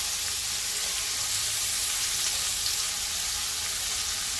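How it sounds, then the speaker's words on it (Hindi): Minced beef keema sizzles steadily in a hot pan, a dense continuous frying hiss at moderate loudness with no talking. "अब मैं इसके अंदर ये बीफ का कीमा है ये ऐड कर रही हूँ"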